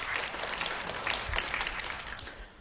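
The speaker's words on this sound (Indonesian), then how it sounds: "Berikan tepuk tangan yang meriah buat Tuhan." A church congregation claps in praise, a fairly faint, busy patter of many hands with a few low thumps beneath, lasting under three seconds and easing off at the end.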